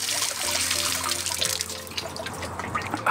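Spring water from the Alpine mountains of Liechtenstein trickles and drips steadily at close range, a continuous splashing flow with no voices.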